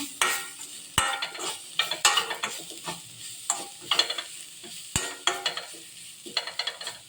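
A spatula stirs a coconut and broad-bean stir-fry in a pan, giving repeated sharp scraping clacks in irregular bursts over a soft sizzle, close and fairly quiet.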